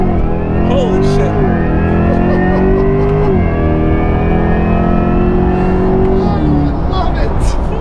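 A sports car accelerates hard up close, its loud engine note climbing steadily in pitch, dropping at each gear change and climbing again across the run.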